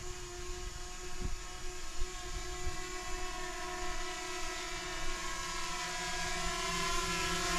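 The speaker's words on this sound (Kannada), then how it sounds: "ನೋಡಿ ಡ್ರೋನ್ ಹಾರಿಸ್ದೆ ನಮ್ಮ ಫ್ರೆಂಡು." A drone flies overhead near Talakaveri in hilly waterfall country, giving a steady, droning motor whine with layered tonal hum. It stays fairly even and moderately loud for several seconds with no voices.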